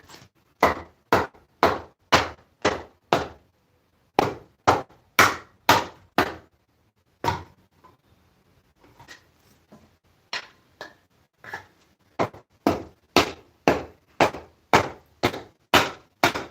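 A wooden mallet pounds copper pipe over the horn of an anvil in a shop: crisp, ringing blows in fast even runs of five or six, broken by a short quieter pause, close and loud.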